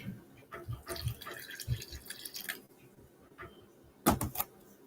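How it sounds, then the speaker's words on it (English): Warm water is poured into cachapa dough in a bowl, giving splashy trickles and drips in a few short bursts, with louder sloshing near the end. "And we're going to add a little warm water."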